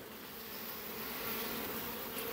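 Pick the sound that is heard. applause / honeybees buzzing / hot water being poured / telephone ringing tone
honeybees buzzing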